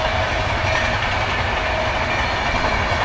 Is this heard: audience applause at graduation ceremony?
no